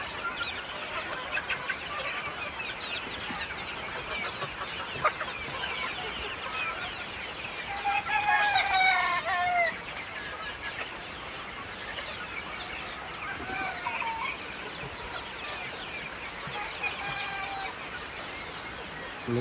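Local farm chickens clucking steadily at moderate distance, with a louder burst of rooster crowing partway through over a busy background of fowl calls.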